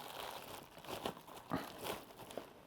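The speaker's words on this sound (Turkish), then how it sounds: "güzel bir korunaklı poşetin içerisine koymuşlar. Havalı bir poşet. Şimdi bunu açıyorum." A protective bag around a Sapphire Radeon RX580 8GB graphics card is opened by hand, giving close, continuous crinkling and rustling with a few sharper crackles.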